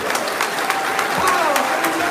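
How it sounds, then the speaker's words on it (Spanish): Applause for the guests rises from a church audience, a dense even clatter of clapping held through the whole stretch while voices murmur underneath. "Un aplauso para los invitados."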